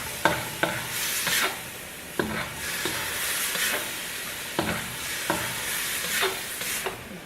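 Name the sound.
stirring food in a sizzling pot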